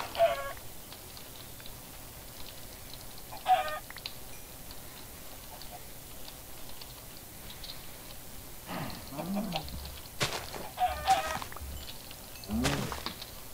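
Minecraft chickens give scattered short clucks at intervals, faint and spread out over a quiet game background with occasional soft thumps.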